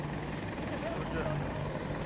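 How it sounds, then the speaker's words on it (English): An AH-64 Apache attack helicopter in a combat video game on the Hourglass map, a steady rotor drone at moderate distance that continues throughout. "And attack helicopter. Coming to us."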